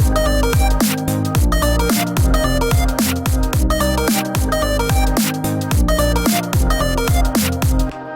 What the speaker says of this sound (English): you start to hear some distortion when the bass is playing